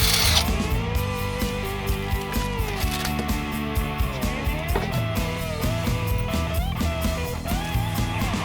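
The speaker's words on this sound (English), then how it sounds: "using 11mm wrench, remove the two bolts securing the legs of the saw" An 11mm wrench ratchets bolts loose from the legs of an IQ252 saw, a rapid clicking pawl repeating in short bursts up close.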